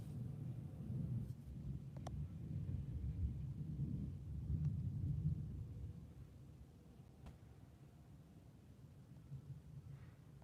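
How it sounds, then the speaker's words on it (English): Rolling thunder from a thunderstorm at night, a low sustained rumble that swells and fades over several seconds, distant and faint, with light crackles and no voices. "Rolling thunder."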